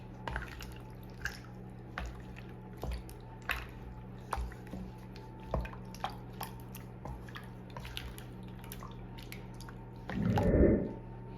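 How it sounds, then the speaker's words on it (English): A utensil stirs thick sugar-free peach cobbler batter, breaking up cornstarch lumps in a bowl, giving soft wet squelches and taps at an irregular pace, ending with a louder scraping swirl near the end; no talking. "Get everything down in here. Try to get the lumps out if you can."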